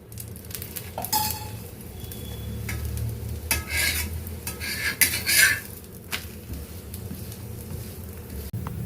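Palak chapati sizzles in oil on a hot pan, with a steady frying crackle and bursts of spatula scraping and clattering against the metal.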